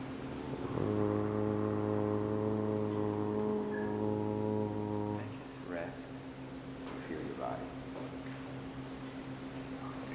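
A voice imitates a harbor foghorn signalling Coast Guard and other boats, holding one long low steady hooting note for about four seconds, followed by quieter talk.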